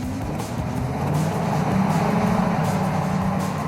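A Cadillac-powered Ecto-1 car drives off with a steady, loud engine note that swells slightly as it pulls away, continuous and close for the whole stretch.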